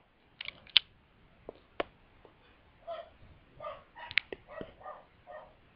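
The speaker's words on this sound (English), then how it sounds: "My dog is barking." A dog barks in a handful of sharp, separate yips and woofs indoors in a home basement, fairly close, spread across the stretch with short gaps and some softer yelps between.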